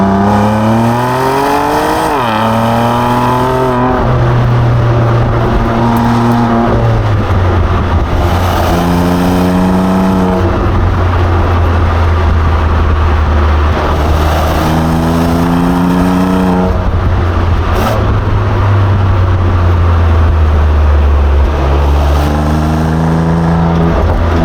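A BMW M2 Competition engine in M2 mode revs up repeatedly through the gears, a loud, close, steady drone that climbs in pitch, drops at each shift and builds again.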